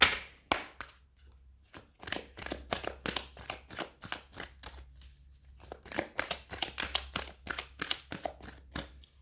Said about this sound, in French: Donc je vais aller tirer d'autres cartes pour voir.